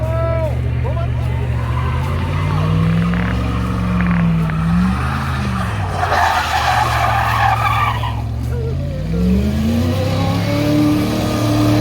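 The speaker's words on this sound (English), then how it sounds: "smoke some tires." A Dodge Diplomat race car revs hard and skids with squealing tires during a tire-smoking burnout, the engine note rising and falling loudly and close, with people talking over it.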